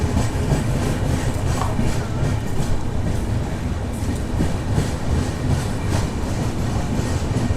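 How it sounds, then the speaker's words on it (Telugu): The Visakha Express rolls into platform 1 at Cheepurupalli, a loud, close, continuous rumble of wheels and carriages with rhythmic clatter and no speech. "సో చీపురపల్లికి మన ట్రైన్ వచ్చేసి ప్లాట్ఫామ్ 1కి అయితే వచ్చింది"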